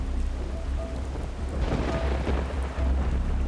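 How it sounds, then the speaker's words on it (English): A thunderstorm at sea hits a cruise ship, with steady heavy rain and a low rumble of thunder swelling midway, loud and continuous with no voices. "The following day, the cruise ship hits stormy weather"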